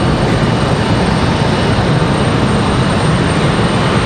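A plane departing Raleigh-Durham International Airport roars as a steady, loud, broadband rumble that stays even for the whole stretch, with no voices over it.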